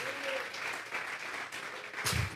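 Applause from a church congregation during a sermon, steady clapping of moderate loudness with a louder thump near the end.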